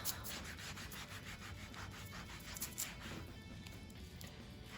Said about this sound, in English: So I'm having to scrub pretty hard on this one as well.